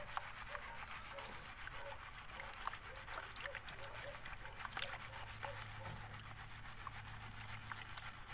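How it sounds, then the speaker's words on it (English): Gold paydirt holding quartz and fine powdery material, shaken in a pan of water: a steady, close swishing and rubbing wash with soft rhythmic sloshes, heard alone without talk. "See, as we're shaking it, it's loosening up all that real fine powdery material, which is making the water dirty."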